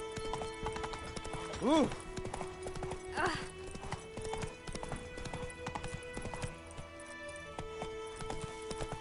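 Roach the horse trots in The Witcher 3, hooves clip-clopping in a steady rhythm at close range, with a brief whinny, a voice exclaiming and other game sounds mixed in.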